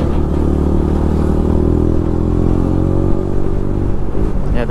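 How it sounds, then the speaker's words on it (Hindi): A Bajaj Pulsar RS 200 BS6 motorcycle engine pulling hard under acceleration while overtaking on the road, a loud, steady drone with a rough, stuttering misfire toward the end. "ये तो मिस मार रहा है ओवरटेक करने में जब पावर खींच रहा हूँ ना तब मिस मार रहा है"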